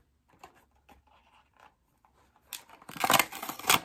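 Foil-backed packaging of a Libre 2 glucose sensor kit being peeled open, a burst of crinkly tearing and rustling that rises after soft faint handling noises, close and loud toward the end.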